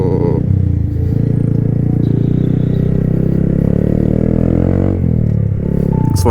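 Honda Grom mini bike ridden along a trail through a field, a loud, steady small-engine drone with a rough buzzing tone heard up close throughout, without talk.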